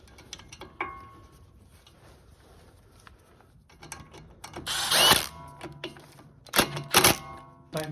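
A ratchet hand tool tightening a front brake caliper bolt on a MINI or BMW 135i, giving several loud bursts of close clicking after a quiet stretch of faint metallic handling, with no speech.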